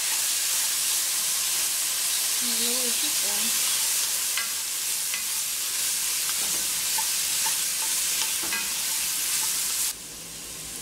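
Chipotle meatball soup cooks in a pot, giving a steady close sizzle and bubbling hiss with occasional stirring taps, alone without talk.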